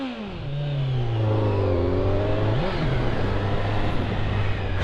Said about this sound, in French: vous avez entendu un peu son bruit de moteur